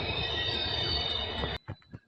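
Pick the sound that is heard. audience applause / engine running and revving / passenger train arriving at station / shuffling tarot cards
passenger train arriving at station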